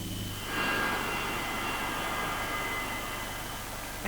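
A Douglas DC-3 propeller airliner carrying passengers between Boston and Cape Cod, its piston engines giving a steady loud drone with a hum that swells after a moment and holds, with no talking.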